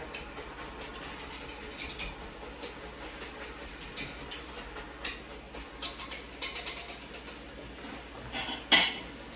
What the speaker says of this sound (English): I like to kind of get in there with a whisk and just kind of break it up a little bit